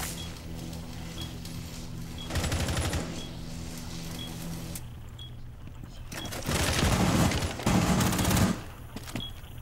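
SMG-11 gunfire in a shooter video game comes as several rapid bursts of automatic fire, some loud and close, others muffled, mixed with clatter and thuds and no talking.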